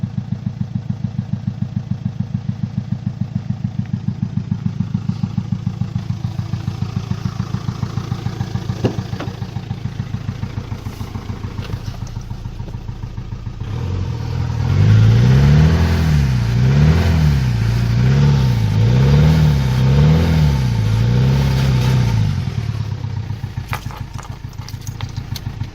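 A Mitsubishi Outlander diesel engine idles with a steady rumble after a fuel and vacuum pump rebuild, then revs up repeatedly in rising and falling surges before settling back to idle.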